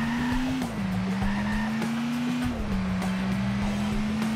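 Steady game-car engine drone from Turbo Dismount on a racetrack, holding a loud, even tone with slight pitch dips, alone without talk.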